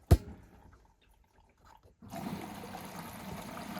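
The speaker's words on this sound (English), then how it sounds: "it's taking on water with a violent bump of the hose" A Samsung washer dryer with a collapsed ballast gives a sharp bump from its hose, then a short quiet spell, then a steady rush of water pouring in that goes on to the end.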